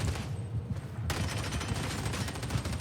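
Rapid sustained gunfire from an Ogryn's heavy gun in the video game Warhammer 40K: Darktide, a dense continuous barrage with a brief lull before the shooting resumes loud and unbroken.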